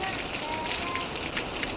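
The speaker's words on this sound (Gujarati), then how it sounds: "મસ્તીનો વરસાદ આવી ગયો છે." Steady rain falls in Surat, a dense, even patter close by with a faint background hum and no clear voices.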